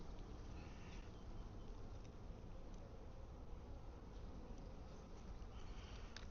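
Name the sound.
bees buzzing around an open beehive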